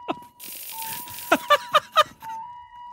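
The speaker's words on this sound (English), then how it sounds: "The alarm goes off." An alarm goes off in the video game Sir Whoopass, a steady electronic tone running through several sharp metallic rattling bursts in a quick series, fairly loud and close.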